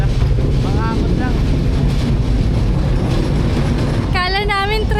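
A rock-hauling cart near Jiufen and Shifen in Taiwan rumbles past loudly with a continuous heavy rolling roar, while voices speak briefly over it.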